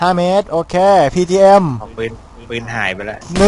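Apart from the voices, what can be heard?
No distinct noise like a dog, phone or traffic.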